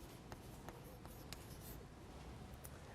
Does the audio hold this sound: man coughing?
no